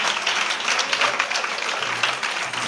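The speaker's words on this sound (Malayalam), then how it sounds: "നല്ലൊരു കയ്യടി പുള്ളിക്കല്ല, അമ്മയ്ക്ക്." A church congregation applauds in a steady, soft wash of clapping that holds evenly for a few seconds, with no clear voice over it.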